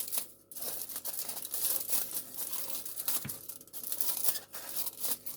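Continuous crinkling and crumpling of thin aluminium foil being torn into strips, with short tearing rips and rustles at close range, no voices.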